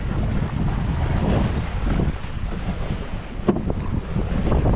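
Steady, strong spring wind buffeting the microphone outdoors near water while fishing at Hamaliivka, a continuous rough roar with no voices.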